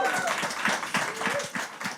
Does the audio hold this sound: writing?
no